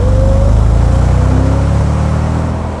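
A 2002 Mercedes SL 55 AMG with a supercharged 5.5-litre V8 sprints from 0 to 100, its engine a loud, close, continuous roar with a rising whine that tapers off at the end.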